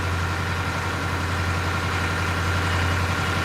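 A boat engine idling loudly, a dense, steady low drone with a constant hum and broadband rumble, close and unchanging for several seconds with no voices.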